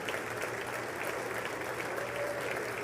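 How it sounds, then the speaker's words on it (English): Soft, tepid golf-clap applause from a crowd, a steady wash of light scattered clapping kept quiet and distant throughout, with no voices over it. "Really tepid clapping."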